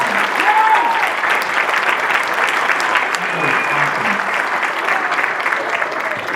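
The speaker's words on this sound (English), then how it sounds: "can we just get another round of applause for the middle school?" An audience at a middle and high school jazz night applauds a middle school jazz band, steady loud clapping filling the hall with a few voices and cheers mixed in.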